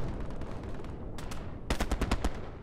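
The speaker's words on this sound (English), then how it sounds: "that's somebody shooting the tank" Gunfire rings out at a tank in the video game Hell Let Loose: a single distant shot, then a rapid burst of sharp, loud reports clustered near the end.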